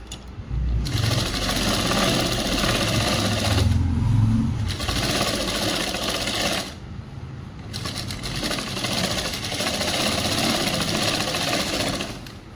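A sewing machine runs a steady return stitch on a school uniform chudi top, its continuous motor whir and needle chatter loud and close, with two brief pauses where the stitching stops.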